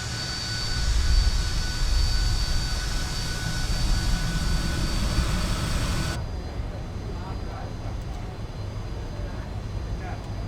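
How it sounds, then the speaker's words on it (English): Jet engines of a Fokker F28 in a flight simulator game give a steady, loud roar that drops abruptly to a quieter hum partway through. "What a cute little jet."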